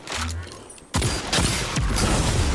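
Grenade launcher fire in the shooter Destiny 2: a sudden loud burst of booming blasts after a quieter opening, followed by more repeated heavy thumps and explosions close by.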